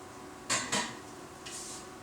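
Metal pots and pans clank twice in quick succession as a ladle is pulled from among them, then a softer scrape follows, close and fairly quiet in a kitchen.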